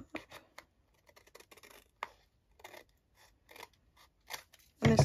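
Scissors snipping through a paper journaling card during a papercraft session, a run of quick, close crisp cuts in irregular bursts with short pauses, ending in a louder rustle of handled paper.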